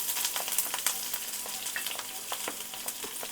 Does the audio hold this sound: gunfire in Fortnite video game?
no